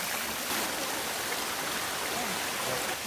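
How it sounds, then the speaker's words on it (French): Shallow water, only a centimetre or two deep, runs steadily over calcium-carbonate-coated rock at Sticky Waterfall near Chiang Mai, a constant even rushing hiss with no breaks or voices. "On a l'eau qui coule"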